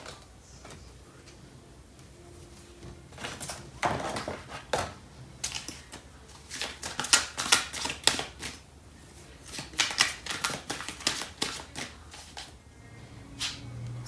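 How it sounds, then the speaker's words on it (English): Cards from a Fairy Tarot deck being shuffled and drawn, giving a run of quick, close crisp flicks and riffling clicks in bursts, most dense in the middle and later stretches, with no talking. "I'm going to pull out a card from the Fairy Tarot deck."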